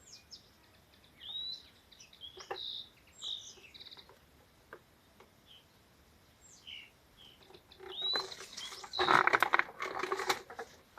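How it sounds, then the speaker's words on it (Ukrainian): Small birds sing outdoors in a summer garden: several short, bright chirps and trills scattered across the clip, then a denser, louder burst of song near the end over a quiet background. "Краса, пташечки співають."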